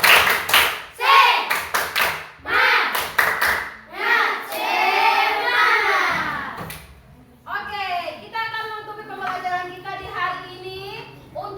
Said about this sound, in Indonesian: mari kita tepuk semangat dulu. Tepuk semangat.